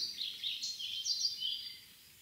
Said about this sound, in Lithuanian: Juodasis strazdas.